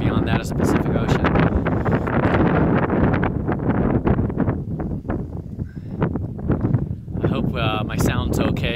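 Strong wind buffets a microphone on a hilltop overlooking distant mountains and the Pacific, a loud continuous roar with gusty surges throughout the whole stretch.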